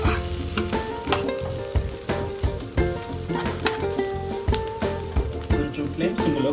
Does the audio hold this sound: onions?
yes